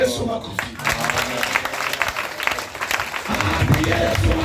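A church congregation claps for Jesus during a healing prayer, a scattered patter of applause that builds and fades under ongoing speech, with a strong voice rising near the end.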